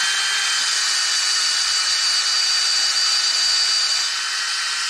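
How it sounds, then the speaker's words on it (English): A steady, hissing whine of a drill boring a tap hole into a maple tree runs continuously for several seconds, loud and close, with no talking. "I'm just going to drill a"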